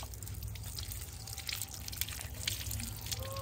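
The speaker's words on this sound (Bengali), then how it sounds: "ধুয়ে নি এখান থেকে, একটু ভালো করে ধোও" Water from a tap trickles and drips steadily while something is rinsed clean at a household sink, a faint, continuous wash of liquid with no voices.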